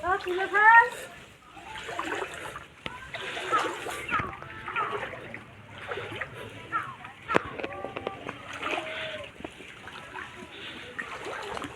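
Floodwater inside a house splashes and sloshes in irregular bursts, as if someone is wading through it, heard close by under a person talking throughout.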